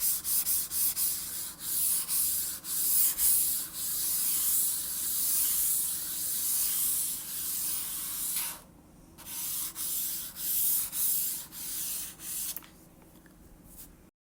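Jade Air mouse skates after a month of use glide across a glass mouse pad, producing rhythmic raspy swishes in repeated strokes, close and fairly faint, with a couple of short pauses and no speech.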